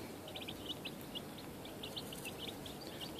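Rapid high-pitched peeping from nine week-old chicks, many short chirps in clusters over a steady low background noise, no voices.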